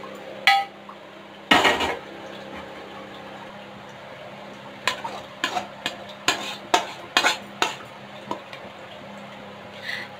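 A metal dosa tawa set down on a home stove with a sharp clank, followed after a pause by a run of lighter metallic clinks and taps of utensils against cookware in a quiet kitchen.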